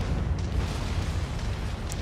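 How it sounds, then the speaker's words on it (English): A continuous, heavy low rumble of explosions in the MechWarrior 5 video game, a loud dense roar lasting throughout with no talking. "These explosions everywhere."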